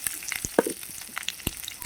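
Four or five dried red chillies tempering in hot oil, crackling with a brief sizzle and a few sharp pops and scrapes, close and fairly quiet.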